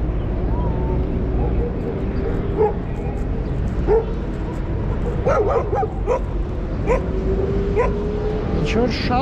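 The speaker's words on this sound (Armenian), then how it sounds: "Ինչ-որ շատ են շները" Several dogs bark, yip and whimper in a residential courtyard park in Yerevan, scattered bursts at moderate distance over a constant low outdoor rumble.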